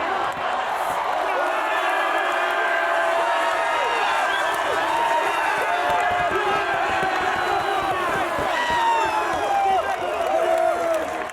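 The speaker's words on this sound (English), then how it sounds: "It's an awesome crowd." A large crowd at a rugby league match roars and cheers in a dense, continuous wall of voices, with shouts and chant-like calls rising and falling throughout.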